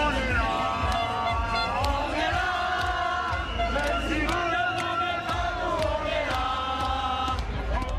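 A large crowd of protesters moves off together along a Paris street beside the Health Ministry, a dense, continuous roar of massed voices with chanting, shouts and sharp cries rising over the din throughout.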